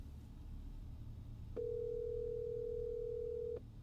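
A single long steady telephone tone from a call placed before it goes to voicemail, sounding for about two seconds over quiet background, with no talk.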